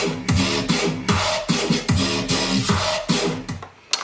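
A dubstep track plays loud and alone, with a regular pulsing beat of punchy low bass hits and wobbling synth tones repeating several times before a short break near the end.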